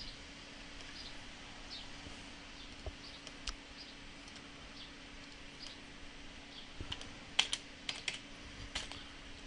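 Quiet typing on a computer keyboard while entering cabinet numbers in drafting software, scattered soft key taps that cluster into a short burst of clicks near the end, with no talking.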